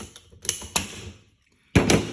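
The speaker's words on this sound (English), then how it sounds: "you just use the PVC pipe cutter" PVC pipe cutter snapping through PVC pipe: a few sharp, close clicks and crunches in quick bursts, a brief silent pause, then a louder final crunch as the cut finishes.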